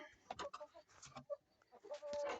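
Chickens clucking close by in a farmyard, a scattered string of quiet clucks and short calls, one longer call near the end, with soft background noise.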